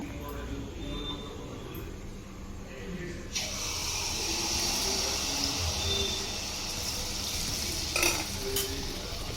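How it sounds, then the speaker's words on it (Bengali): Palm malpoa pancakes fry in hot oil in a pan with a steady, close sizzle that grows fuller as each is added, with occasional light utensil clinks. "এবার আমরা একটা একটা করে পিঠেগুলো ভেজে নেব"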